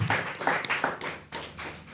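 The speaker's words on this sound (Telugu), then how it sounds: "చప్పట్లు కూడా దేవుని మహిమ." A church congregation claps together during a sermon, a run of fairly quick, uneven claps that swell and fade in bursts across a couple of seconds at moderate loudness.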